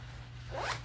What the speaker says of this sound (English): The next thing that we're going to do is insert the zipper.